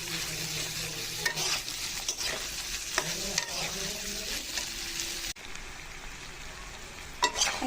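Vegetables are stirred in a hot pan for noodles, with close scraping and clinking strokes over a continuous sizzle. Faint watery sounds come and go, and a brief louder clatter occurs near the end.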